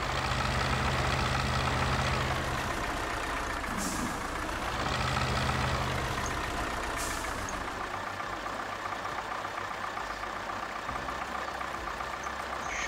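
A simulated JCB 4CX backhoe diesel engine idles in the Spin Tires off-road driving game, a loud, steady low rumble running continuously throughout with a couple of brief hissing bursts.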